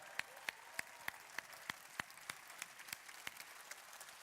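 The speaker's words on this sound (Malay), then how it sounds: "Tepukan gemuruh sekali lagi untuk Perdana Menteri kita." Applause for a prime minister at a national youth aspirations dialogue event, heard as faint, sparse clapping with regular isolated claps standing out over a soft hiss, rather thin and distant.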